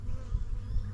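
Honeybees buzz steadily and close during a hive inspection, a dense low hum that swells and eases slightly with the colony's busy movement, no voices over it.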